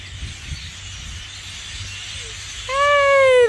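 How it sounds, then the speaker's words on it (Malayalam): Small birds chirping in a winter tree in Houston, faint background twitter rising to a few clear, close whistled notes near the end, with no talking. "ഓ കിളികളുടെ ശബ്ദം"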